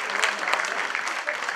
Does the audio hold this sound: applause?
yes